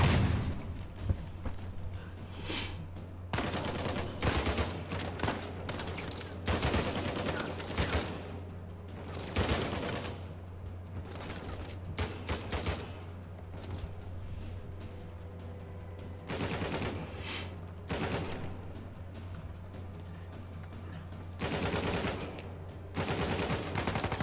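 Video game gunfire in Uncharted 4 on Crushing difficulty: repeated bursts of automatic weapon fire and single shots, loud and close, arriving in irregular clusters over a steady low background hum, with no talking.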